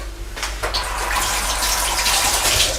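Hands being washed under a running kitchen tap between steps of pickling olives, with a steady, close gush of water splashing continuously and no voices.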